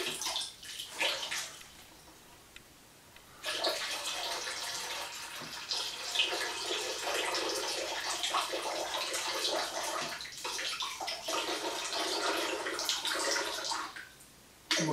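Water pours steadily into a container during a load test of a popsicle-stick crane boom, a continuous splashing stream that pauses briefly near the start and again near the end, with no voices.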